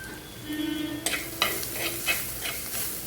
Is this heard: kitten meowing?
no